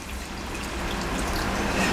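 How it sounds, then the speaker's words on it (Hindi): Water is poured into chole gravy cooking in a pan, a steady splashing pour that rises slightly in level over two seconds. "अब हल्का सा ये पानी डाल रहे हैं"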